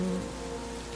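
Steady rain falls in a radio drama, a soft continuous hiss of drops on a surface, with a low tonal hum briefly present at the start and no voices.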